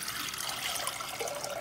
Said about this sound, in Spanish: Aquí vamos a poner 1 litro de agua.